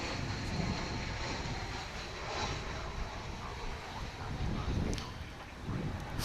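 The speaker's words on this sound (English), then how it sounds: "Flight 2081 in the Airbus A321, just arriving from Sacramento, California." An Airbus A321 airliner on Flight 2081 arrives at DFW Airport as a steady broadband jet roar, heard from a distance, with wind buffeting the microphone and no voices.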